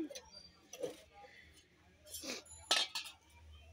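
A metal steaming stand and pot lid clink against a cooking pot while a fish dish is being steamed, with a few sharp, separate metallic taps and scrapes close by and quiet speech in between.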